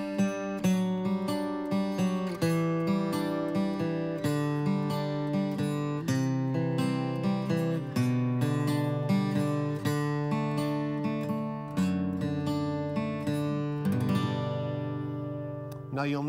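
Acoustic guitar chords ring out in a steady passage, with notes stepping down between changes; played alone, clear and close.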